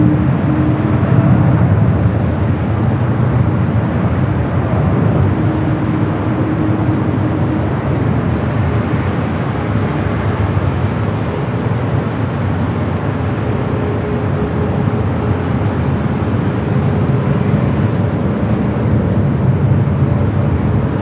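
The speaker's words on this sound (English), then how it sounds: "United Dreamliner now rolling down to 25 or right." A United Boeing 787 Dreamliner rolls down runway 25 Right at Los Angeles LAX airport, heard as a steady, distant broadband roar that holds evenly throughout, with no talking.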